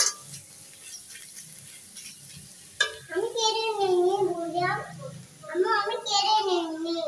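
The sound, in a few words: stirring vegetable bhaji frying on the stove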